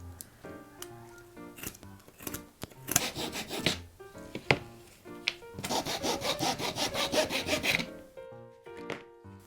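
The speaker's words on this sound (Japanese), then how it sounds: "これでノコギリの作業は終了です" A hand saw cuts small parts from a 100-yen-shop frame for a miniature display case, with uneven rasping strokes that run into a fast, steady burst of sawing before stopping, close and alone.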